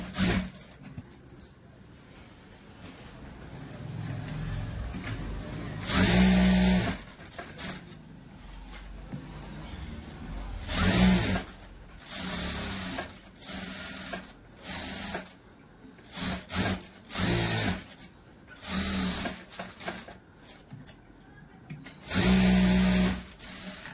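A sewing machine stitching along a blouse, running in several short loud bursts separated by quieter pauses, with no talking.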